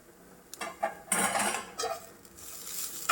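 Grated coconut, carrot and sugar stirred in a pan: close, scattered scraping and clinks of a spoon against the metal, in short irregular bursts with faint sizzle between.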